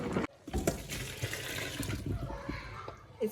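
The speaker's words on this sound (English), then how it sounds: "It's always important to put cold water on the spaghetti, because when you do that, they stop the cooking." Cold water from a tap gushes over cooked spaghetti in a strainer, a steady close splashing rush that fluctuates slightly and runs for a few seconds with no talking.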